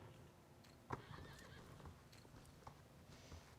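Horse hooves clip-clop and a horse neighs in the Star Stable video game, quiet rhythmic hoofbeats with a distinct whinny near the start, soft and without talking.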